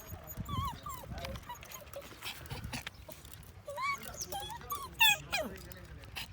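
A purebred dog gives repeated high squeaky whimpers and yelps, close by and in uneven bursts, with a louder cry near the end.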